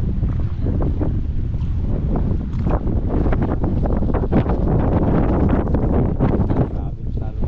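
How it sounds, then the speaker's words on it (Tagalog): Strong wind buffets the microphone continuously on a fishing boat at sea, a loud steady roar with gusty rumble and some water and hull noise underneath. "Grabe, mas lalo na malakas yung hangin eh."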